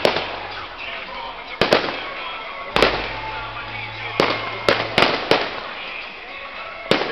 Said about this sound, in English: Half an hour of fireworks